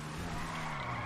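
Tires skid and slide continuously on a car in GTA 5 Online, a steady broad screech with engine drone underneath, loud and close with no pauses.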